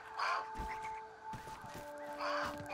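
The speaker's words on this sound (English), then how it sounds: "Oh, I hear the crow." A crow in the video game Grounded caws twice, a pair of harsh, distant calls separated by a pause, over faint steady tonal game ambience.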